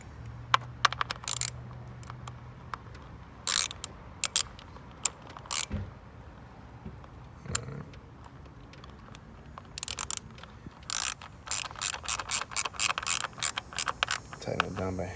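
Ignition coil bolt being tightened on a Hyundai Elantra engine, heard as close ratchet clicks in quick bursts along with tool and metal clinks and rattles.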